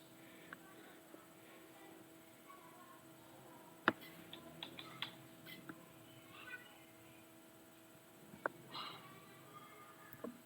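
Scattered light clicks and taps of someone entering a date of birth on a computer keyboard, faint and irregular with a couple of sharper keystrokes over a quiet room hum.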